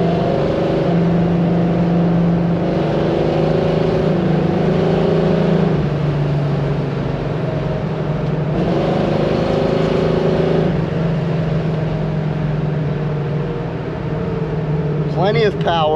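A 1968 Camaro engine runs steadily with a low rumble, swelling and revving as the car drives, with voices talking over it throughout.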